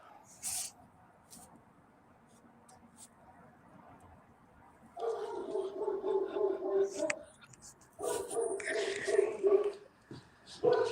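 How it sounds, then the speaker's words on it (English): A dog howls over a phone call in two long, wavering bursts, loud and slightly distorted, with near silence and faint noise between them. "Yeah, that's my dog."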